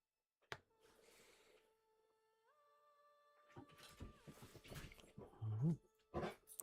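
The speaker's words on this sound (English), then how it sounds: "No, Astrid, we're not barking right now." A dog whimpers and barks close by indoors during a live space-game stream. Sharp yelps and whines rise over steady synthetic game tones, and a few louder barks come near the end.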